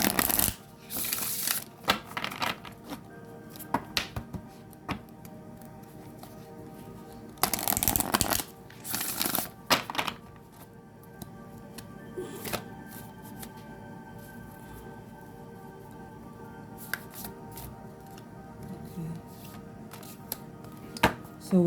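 Tarot cards are shuffled in several brisk, riffling bursts separated by quieter pauses with faint handling and tapping sounds, all close and clear.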